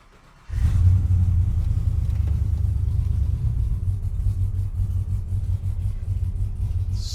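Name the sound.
shop truck with Holley Terminator X driving on highway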